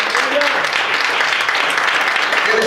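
A church congregation claps in praise during a Spanish-language sermon, a steady dense wash of applause with some voices mixed in throughout.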